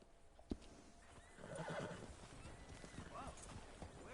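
In the video game Red Dead Redemption 2, a horse whinnies amid the clatter of hooves, with soft voices and ambient noise in the background; a sharp knock sounds early on.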